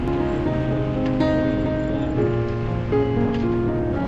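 Snowmelt water runs across a rugged mountain road in Ladakh, a steady close rushing and splashing wash that continues without pause and with no voices.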